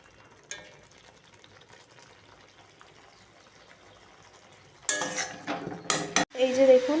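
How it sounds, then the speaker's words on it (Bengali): Potatoes and cauliflower with spices being stir-fried in a pan: quiet at first, then from about five seconds loud bursts of sizzling, clatter and scraping close by, with no talk. "এই যে দেখুন আলু আর ফুলকপি একসাথে কষানো হচ্ছে"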